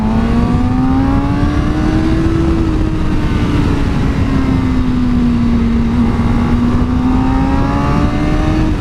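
A Suzuki GSX-R 600 supersport motorcycle is heard close up, its engine holding a loud, steady high-revving whine that rises and falls slightly in pitch under heavy wind rush.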